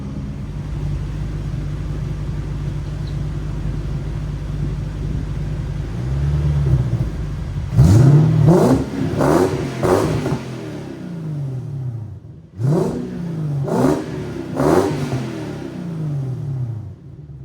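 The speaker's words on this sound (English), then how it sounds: "let it warm up for a little bit and give it some revs." A Lexus GS430 V8 engine with a newly fitted exhaust idles with a low rumble, then is revved in several sharp bursts, rising and falling, followed by another set of revs after a short pause.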